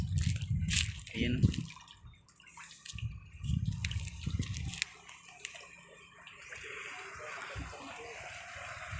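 Water flowing in a rural stream beneath a bridge in the Philippine countryside, a steady broadband rush heard up close, with bursts of low rumbling wind buffeting and brief handling noises over the first five seconds before the flow settles.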